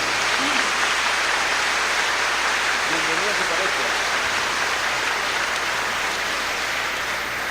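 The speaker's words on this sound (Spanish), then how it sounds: "Un aplauso grande para esta mujer" Steady, dense applause from a church parish audience honoring a woman, broad and continuous throughout without a break, with a voice faintly audible underneath.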